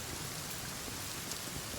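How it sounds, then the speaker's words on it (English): Heavy rain pours in the survival game Sons of the Forest, a dense, even hiss of drops hitting surfaces that holds loud and constant throughout, with no voices. "The rain is getting serious."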